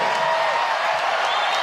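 A volleyball arena crowd at an NCAA women's championship first-round match between Hawaii and Northern Colorado cheers in a steady, loud, roaring wash that stays even throughout.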